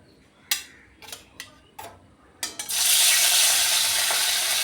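Several sharp clicks and taps come first, then hilsa fish pieces hit hot oil for mustard hilsa and a sudden loud, sustained frying sizzle takes over for the rest.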